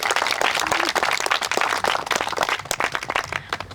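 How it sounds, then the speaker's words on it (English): Wedding guests at a ceremony break into loud, dense applause with some cheering, a continuous close burst of clapping from a crowd lasting several seconds. "how about we give Daniel a big round of applause, a big cheer"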